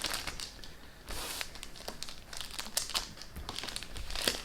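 A plastic Lego parts bag for the Millennium Falcon 75257 set crinkles softly up close as it is handled and cut open with scissors, in quiet irregular rustling bursts with no talking.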